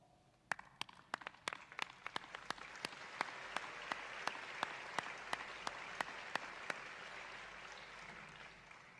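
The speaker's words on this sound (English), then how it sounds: "let's take a minute to recognize you, the family, friends, and loved ones, with a round of applause" Applause from family, friends and loved ones at a university commencement ceremony: scattered sharp claps build into steady, moderately distant clapping that continues throughout.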